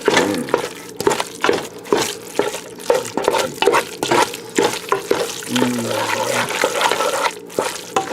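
Ground beef and onions sizzle in a pan with a steady crackling fry under repeated scraping and stirring strokes, close and fairly loud throughout.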